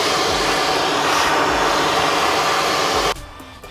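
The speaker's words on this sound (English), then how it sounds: "we're gonna hit it with the vacuum and suck it up." A vacuum cleaner roars steadily while sucking up debris from the Alcantara and leather interior of a Nissan 370Z Touring, loud and close, then cuts off abruptly near the end.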